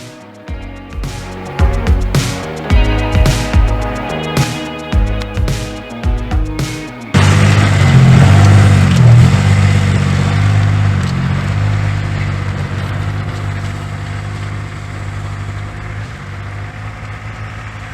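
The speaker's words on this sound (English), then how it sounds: "Plan is to get this car out of here so I can plow the driveway with the quad" A car engine revs hard in irregular bursts while the car tries to drive out through snow, then settles into a loud, sustained roar that slowly fades as it pulls away.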